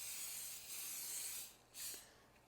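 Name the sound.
spraying cooking oil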